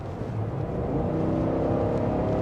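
Chevy Tahoe Z71 with its 6.2-liter engine accelerating, a steady low engine drone and whir building slightly in loudness across the whole stretch, close and continuous with no talk.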